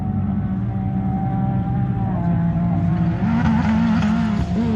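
A Can-Am Maverick R off-road racer runs at the 2025 St George 399 prologue, its engine droning loud and steady throughout, with a rising whine and tire noise toward the end as it reaches the line.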